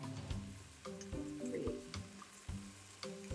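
Scallops searing in melted butter in a hot pan, a quiet steady sizzle with soft crackles and a few light taps as pieces are set down.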